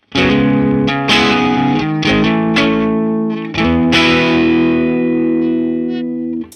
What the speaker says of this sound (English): I'm hearing a lot of distortion coming from the amp